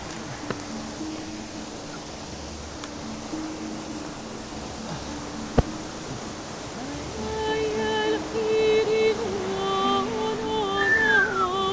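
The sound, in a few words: waterfall in Kabylie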